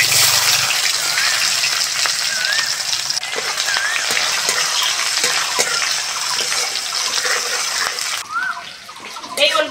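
Onion and five-spice seeds frying in hot oil as the base for a kohlrabi curry, giving a loud, close, steady sizzle with a crackling hiss that runs the whole time and eases briefly near the end.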